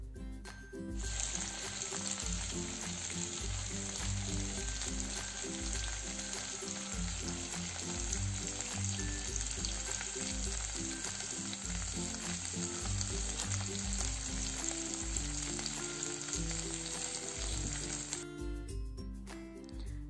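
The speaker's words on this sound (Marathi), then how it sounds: "इथे आता आपण झाकण नाही ठेवायचं, असेच मासे शिजवून घ्यायचेत।" Fish with many small bones frying uncovered in an open pan, a steady dense sizzle holding loud and close for about seventeen seconds with faint clinks of a utensil against the metal.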